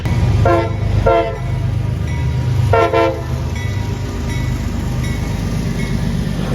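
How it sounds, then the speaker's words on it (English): An odd manifest freight train made up of log cars rolls past with a steady, loud rumble, and several horn blasts ring out near the start. "Yep, this would be the last train of the day."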